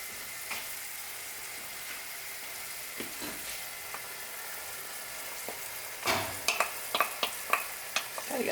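Browned beef sizzles steadily in a pan; partway through, onions drop in and the frying swells, with a run of sharp scraping and clattering stirs near the end.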